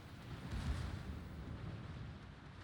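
Heavy shell hits land on a Napoli cruiser during a competitive World of Warships naval battle, heard as a loud, continuous, low rumbling boom that swells briefly early on and then holds steady without any voices.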